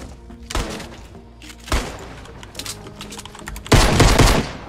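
Gunfire in Fortnite: a few separate sharp shots and short bursts crack out at uneven intervals, the last one loudest and longest, over quiet game ambience.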